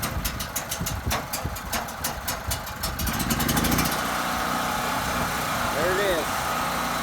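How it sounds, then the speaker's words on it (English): Generator rattling with rapid rhythmic engine pulses as it starts, then settling into a steady, loud running drone, with a voice speaking briefly over it. "We're starting up the generator"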